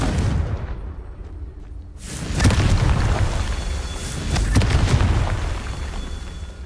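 Confringo blasting spell explosions in Hogwarts Legacy: two heavy booming blasts with rumbling tails after a brief quiet opening, loud and close.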